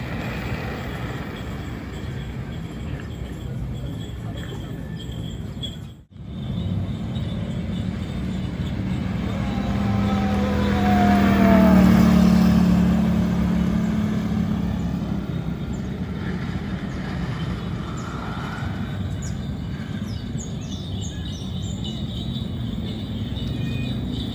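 A Mankeel electric scooter ridden at full throttle gives a steady motor hum. It swells louder toward the middle and then eases off, with one sharp dropout early on.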